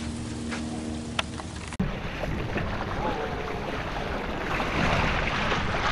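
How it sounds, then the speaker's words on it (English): Canoe paddles dig into ocean water off Hawaii, steady wash and splash of strokes under waves and gusting wind noise across the microphone. "we're paddling in time and we're paddling hard"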